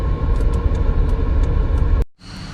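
Steady rumble of a car on the road, the engine and tire noise continuous and close, cutting out abruptly near the end before a quieter cabin hum resumes.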